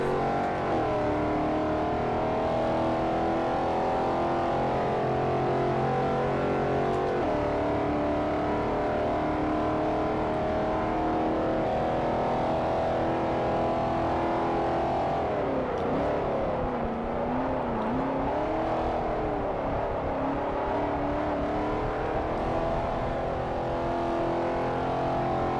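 A Ford Mustang Boss 429 race car in Forza Motorsport 4, its engine droning loud and steady throughout, pitch sweeping up and down as it power-slides through turns, with no talking.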